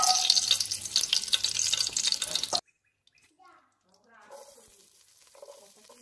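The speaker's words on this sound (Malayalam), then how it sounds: "ഈ ചിക്കൻ പൊരിച്ച എണ്ണ ഉണ്ടല്ലോ, അത് തന്നെ ഇതിലേക്ക് ഒഴിച്ചിട്ട് കുറച്ച് ഉള്ളി, അതായത് ചെറിയ ഉള്ളി, അതും ഒരു വലിയുള്ളിയും കൂടി മിക്സ് ചെയ്തിട്ട് നമുക്ക് വഴറ്റിയെടുക്കാനുണ്ട്" Shallots and onion sautéing in leftover chicken frying oil in a pan give a loud, dense sizzle for about two and a half seconds. It cuts off abruptly and is followed by quieter speech.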